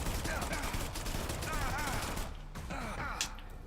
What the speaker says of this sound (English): Summon your damn ceiling turrets.